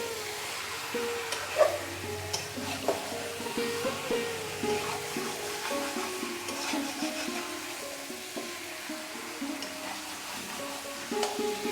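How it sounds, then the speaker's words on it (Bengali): Chicken meat being stirred in a kadai over a village cooking fire, steady sizzling with repeated scraping and clinking of the utensil against the pan, no talk. "এবার আমরা এতে মাংসটাকে দিয়ে দিচ্ছি। আমরা ভালোভাবে এটাকে মেশাবো।"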